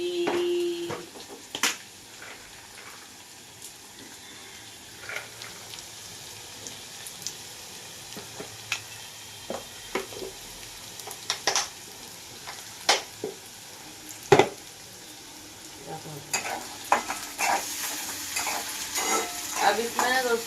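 Peanuts for Maharashtra-style kanda poha fry in a pan with a soft, continuous sizzle, punctuated by scattered sharp spatula clicks and scrapes from stirring that grow busier toward the end.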